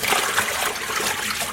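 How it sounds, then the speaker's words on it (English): Cool water running steadily to rinse hand-dyed yarn, a continuous loud splashing gush with bubbling texture, close up and uninterrupted, no voices. "This is cool water I'm using right now to rinse the yarn."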